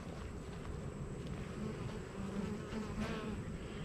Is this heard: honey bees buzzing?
yes